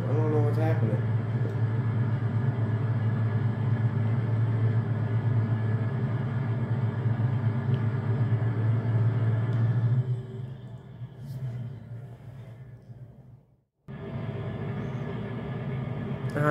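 A combine harvester in Farming Simulator 22 gives a steady low engine rumble during a harvest, then drops off briefly and cuts out before returning, with someone talking over it.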